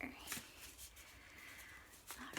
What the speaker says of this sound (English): just shuffling this deck, and this deck is also smaller here